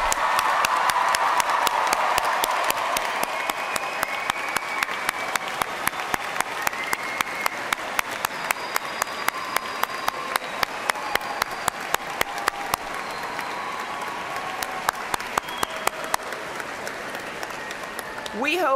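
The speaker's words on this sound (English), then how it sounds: "let us recognize with a hearty round of applause Eastern Kentucky University's newest graduates of the College of Health Sciences." A crowd applauds new health sciences graduates at a university spring commencement, with a broad, steady roar of clapping that slowly thins into distinct sharp claps and fades toward the end.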